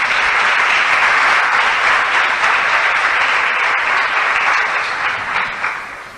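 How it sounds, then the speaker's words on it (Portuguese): A church congregation claps loudly and steadily for several seconds, a dense crowd applause that fades slightly toward the end. "Dá um aplauso bem lindo ao Espírito Santo."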